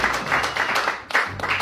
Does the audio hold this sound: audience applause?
yes